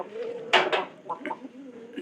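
At night, pigeons in a lower room of a loft give soft, short coos over a quiet background hum, with a few brief rustles.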